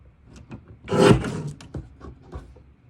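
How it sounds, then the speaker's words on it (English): Cardstock being trimmed on a paper trimmer for a card kit, a short close rubbing slide about a second long with softer scuffs around it, no talking. "I'm going to trim this at 11 3/4."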